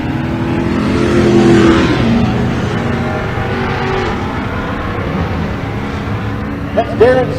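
Drag racing at Pueblo, Colorado with a 1967 Coronet and a big square-body C10: a rumbling engine roar swells and fades under continuous announcer commentary, loud and close.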